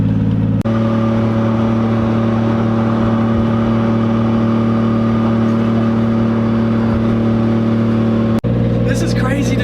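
Nissan 240 car driving on town streets, its engine a steady loud drone with strong low harmonics throughout, briefly interrupted by a sharp click near the start and end.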